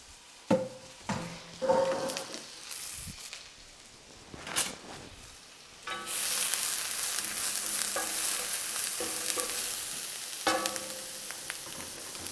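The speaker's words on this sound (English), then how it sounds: "just saute the onion a little bit, as my mom would" Onion and ground soy sautéing in a pan: scattered stirring knocks and scrapes at first, then a loud steady sizzle with a spoon repeatedly scraping through the mixture.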